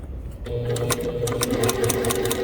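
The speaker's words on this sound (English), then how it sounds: "So that's what I'm going to do, is just kind of line it up. We're sewing along." A sewing machine stitches fabric in a steady rapid whir, starting up after a brief quiet moment and running on close by with faint clicks.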